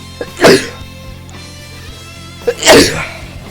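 Two loud, close sneezes about two seconds apart, each with a short sharp inhale before it, in a quiet room.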